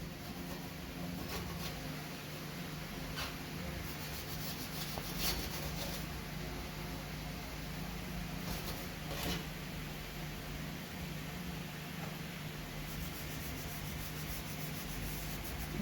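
Steady, faint rubbing and scrubbing as crevices around a stove are deep-cleaned by hand, a continuous soft scouring with no talk.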